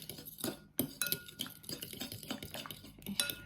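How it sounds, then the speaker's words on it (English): A spoon clinks and scrapes against a cup while yogurt smoothie ingredients are mixed, giving close, irregular taps and stirs. "And then we're going to give it a big mix."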